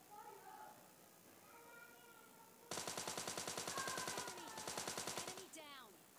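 A Tommy gun fires a long rapid burst in PUBG, loud and steady, then breaks off into a shorter burst, with a voice talking faintly beneath the gunfire.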